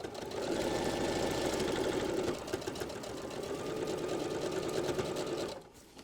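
A sewing machine back stitches the seam of a Mondo bag with gridded interfacing, running steadily and loudly for about five seconds, then stopping abruptly near the end.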